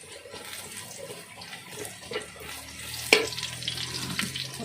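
Onions frying in a pan give a steady, low sizzling hiss throughout, fairly quiet and continuous, with one brief sharper clink partway through.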